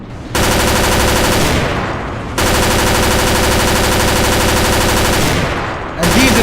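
Sustained machine gun fire in the video game Battlefield Iraq, loud and continuous in long bursts with two brief pauses.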